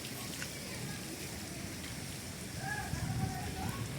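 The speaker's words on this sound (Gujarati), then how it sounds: "જોરદાર વરસાદ પડી ગયો મિત્રો" Heavy rain pours steadily over a farm orchard in May, a dense continuous hiss of drops on surfaces that swells slightly louder toward the end, with no voices.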